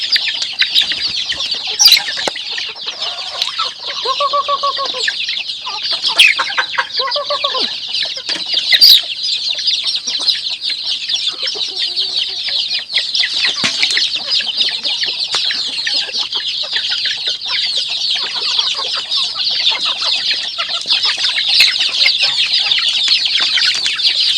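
Chickens cluck close by while chicken feed is made, with short clucks and squawks scattered through a constant dense buzz of insects or background hiss, fairly loud throughout.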